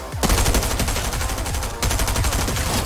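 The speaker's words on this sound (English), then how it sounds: "I'm just shoot this flare again." A flare shot in the video game Fortnite, set against dense, loud, continuous game noise with rapid repeated bangs that fill the whole moment.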